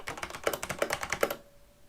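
Quick clacking keystrokes on a Corsair K63 keyboard, a close, uneven run of taps that stops abruptly into near silence.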